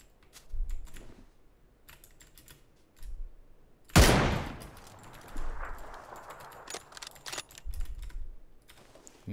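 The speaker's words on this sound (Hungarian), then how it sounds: "Egy lövés hangzott el. M24." A single loud M24 sniper rifle shot rings out in PUBG and trails off in a long echo, surrounded by steady clicking from a computer keyboard.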